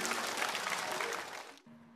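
A studio audience at a Nanning antique appraisal show applauds to welcome three collectors onto the stage, a brief burst of dense clapping that fades out quickly.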